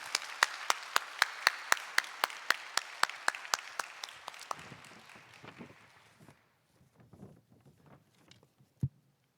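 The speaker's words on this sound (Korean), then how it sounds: "우리 박수로 맞이해 주시길 바랍니다" A church congregation at a Sunday worship service claps together in a steady, rhythmic beat that gradually loosens into scattered, fading claps and patter, ending with a last isolated clap after a short hush.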